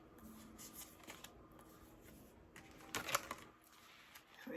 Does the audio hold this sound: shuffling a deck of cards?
yes